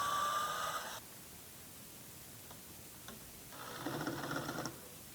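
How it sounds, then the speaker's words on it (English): A drill bores upward through sauna bench wood from underneath while a pre-cut sauna kit is assembled, with two separate whirring, grinding bursts at the start and near the end and a quieter pause between them. "So I drilled up from the bottom here"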